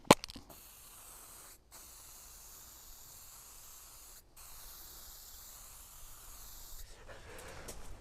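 A spray paint can hissing in long continuous bursts over Miscanthus plant canes, with two brief pauses between sprays, close by and steady in loudness.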